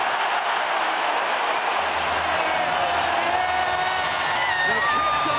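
A packed rugby stadium roars as Ireland score a try against Australia in a 2022 Autumn Nations Series match, a dense, sustained cheer with whistles and shouts rising through it.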